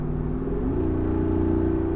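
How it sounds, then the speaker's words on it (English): The V8 engine of a 2024 Jeep Wrangler Rubicon 392 gives a deep, steady rumble with a throaty exhaust note that climbs slightly in pitch partway through, loud and close. "And with that amazing exhaust note out back"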